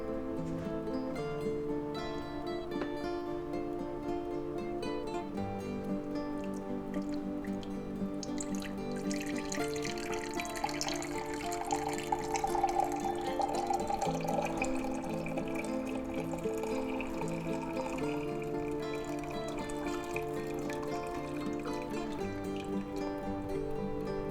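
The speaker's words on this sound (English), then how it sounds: "And we'll get our pitcher, our Pyrex pitcher. And we'll go ahead and pour that right in there." Au jus is poured into a Pyrex pitcher with a soft, steady trickle and drip, close and continuous, briefly fuller in the middle, with no talking.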